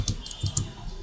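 A few quick keystrokes on a computer keyboard entering a command make soft, close clicks in a short irregular burst.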